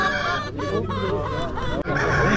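Several desi chickens clucking and squawking close by, overlapping calls with a brief harsh honk-like cry, fairly loud throughout.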